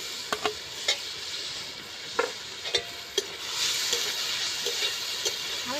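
Chopped tomato sizzling in a pan with fried onion, a steady soft frying hiss with scattered sharp crackles and pops, close and alone without talk.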